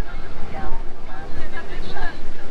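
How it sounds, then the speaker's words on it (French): Waves crash against the port side of a boat off Santo Antão, surging in loud, uneven swells with heavy wind buffeting the microphone. "On entend les vagues se fracasser à bâbord."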